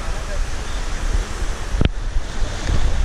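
Ocean surf at Fulong beach in Taiwan rolls in as a broad, loud wash of waves mixed with gusty wind buffeting the microphone, with a brief sharp clatter partway through.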